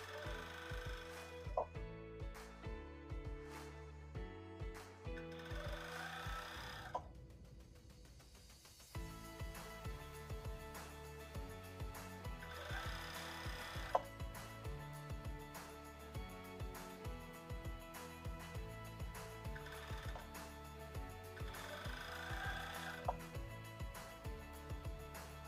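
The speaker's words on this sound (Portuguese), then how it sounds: "E eu vou esticar e passar essa costura em volta de toda a cueca." A sewing machine stitching elastic around plus-size boxer briefs, a fast rhythmic mechanical whir that pauses briefly, then resumes steadily up close.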